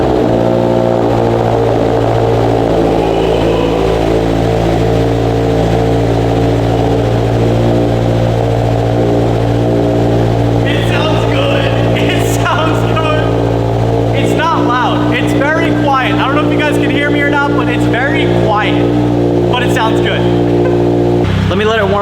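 A 2022 Subaru BRZ fitted with a Greddy Evo GT catback exhaust idles after a cold start, giving a steady, droning engine hum throughout, with rougher, busier exhaust sound building in the second half.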